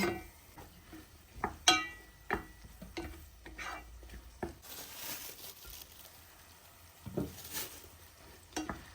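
Spoon scrapes and clatters as chopped carrots and vegetables are stirred in a pan, with soft sizzling and patches of hiss between the irregular strokes.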